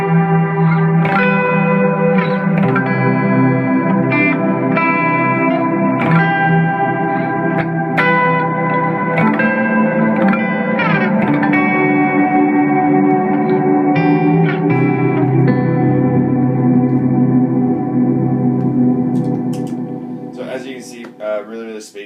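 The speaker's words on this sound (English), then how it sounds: "I've got a really ambient with a chorus on the fronts and no delay" Ambient guitar patch on an Eventide H9 pedal with chorus modulation and no delay, sustained shimmering chords played close and loud, continuous for about twenty seconds before tapering off.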